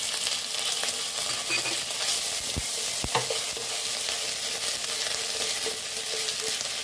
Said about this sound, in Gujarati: તેલ ગરમ થઈ ગયું છે. તેમાં 1 ચમચી આદુની પેસ્ટ નાખીશું.